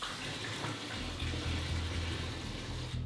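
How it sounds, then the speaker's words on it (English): Water pours steadily into a container for a bean-fuelled car experiment, a continuous close splashing, gurgling rush that strengthens partway through and carries on without talk. "Why don't we right now, step one, add the water."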